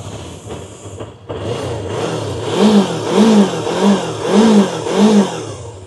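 A 2019 Yamaha YZF R25 motorcycle engine in fully standard condition, heard close by: after a brief start it is revved in a series of rhythmic throttle blips, about five surges rising and falling in pitch.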